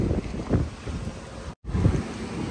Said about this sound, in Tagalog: Yan, lakas ng hangin guys.